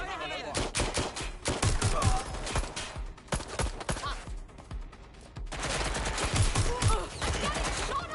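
Rapid gunfire bursts in the video game Watch Dogs: Legion on PS5, dense cracking shots and machine-gun volleys, loud and close, with a brief lull midway before another heavy fusillade.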